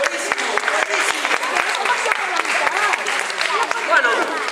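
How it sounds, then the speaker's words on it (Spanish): A theatre audience claps loudly and steadily, with dense applause filling the whole stretch and voices mixed in beneath. "¡Fuerte aplauso!"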